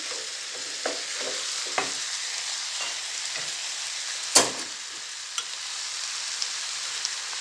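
Minced meat sizzling steadily in a pan, stirred and pressed with a wooden spoon, giving a soft continuous hiss broken by a few light scraping taps and one sharper clack, close and with no voices.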